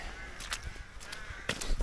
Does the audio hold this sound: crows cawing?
yes